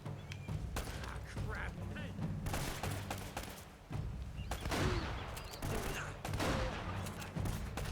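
Gunfire in the video game Uncharted: Drake's Fortune, bursts of shots and impacts scattered across the stretch, moderately faint under game ambience and a speaking voice.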